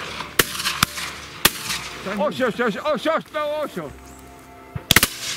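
Shotgun shots ring out on a duck hunt, a few sharp bangs at the start and a quick cluster near the end, with a duck call or quacking bursts and a brief spoken word in between.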